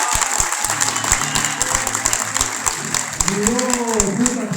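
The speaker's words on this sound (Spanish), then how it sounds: "Fuerte los aplausos." Clapping from an audience greets musicians, including maestro Richard Caballero, at a Paraguayan music event in San Martín. Steady applause runs under low instrumental tones and a murmuring voice.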